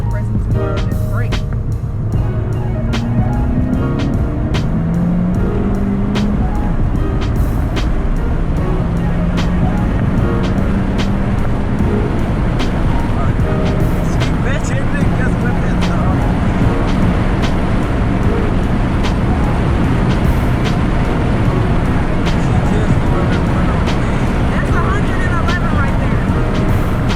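A 10th-generation Honda Civic Si rolling along a road at low speed, with a loud, steady cabin rumble of engine and tyre noise and a shifting engine tone, while people talk over it.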